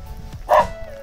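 A single short, sharp dog bark bursts out near the microphone in an open outdoor setting, loud and clear against a quiet background with no talking.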